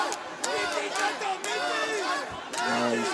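Loud arena crowd noise during the IFC 20 title fight between Jonas Boeno and Nodar Kudukhashvili, with cheering, chanting and yelling in surges and a commentator talking throughout.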